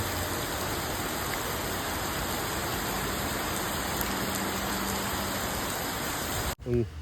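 Dense, steady rain hisses evenly throughout, close and loud, before cutting off abruptly near the end.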